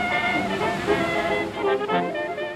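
Pacific Ocean surf washes and rolls in a continuous broad hiss, with swells rising and falling in loudness throughout.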